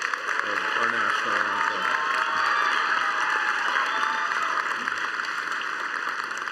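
Applause fills a graduation commencement ceremony hall after a rendition of the national anthem, a dense, continuous wash of clapping that holds at an even level throughout, with some crowd noise mixed in.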